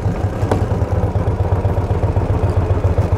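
The engine of an original-condition 1934 Morgan Threewheeler Supersports runs up close and loud, with a fast, even, throbbing clatter throughout.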